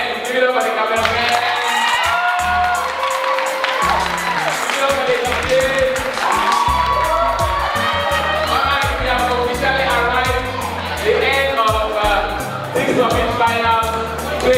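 A hotel ballroom audience at the Tic Summit 2024 finals cheers and applauds the cameraman, with sustained loud clapping, whoops and shouts blending into a dense crowd roar and music throughout.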